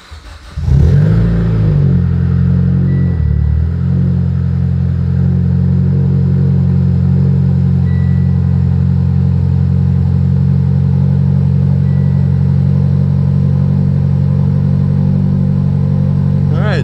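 An Evo X car engine cranks and catches, settling into a loud, steady running drone that holds for the rest of the clip.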